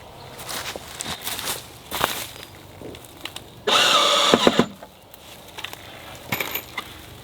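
A Ryobi 18-volt drill driver in drill mode drives a Phillips screw in one loud, steady whirring burst of about a second, set among quieter handling knocks and clatter.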